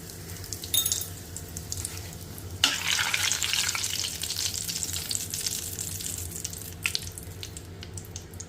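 Asafoetida goes into hot oil with fenugreek seeds for mango pickle after the gas is switched off. A close, crackling sizzle surges after a sharp knock and then slowly fades, with scattered clicks.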